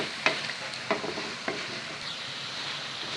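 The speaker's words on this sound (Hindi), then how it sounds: "अब हम इसमें आलू ऐड करेंगे, मिक्स करेंगे अच्छी तरह से।" Potatoes being stirred into cooked masala in a pan while making friendship rice, a few soft scraping strokes over a faint, steady sizzle, fairly quiet and without talk.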